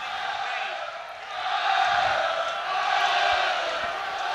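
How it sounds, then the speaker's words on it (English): Connacht home crowd roaring their team on at a Guinness PRO14 rugby match against Glasgow Warriors, a broad sustained stadium roar that swells and surges in waves, with commentary voices underneath. "And the Connacht crowd roaring their team on here"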